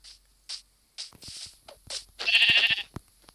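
Sheep bleating in the video game Minecraft, several short separate bleats spaced across the moment, ending in a louder, longer bleat, with no talking over them.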